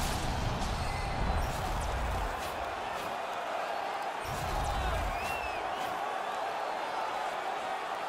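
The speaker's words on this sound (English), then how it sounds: "the crowd back alive here inside the stadium" A playoff ice hockey crowd roars inside a stadium with steady, dense noise and scattered whoops and shouts. A commentator's voice may sit faintly under the crowd.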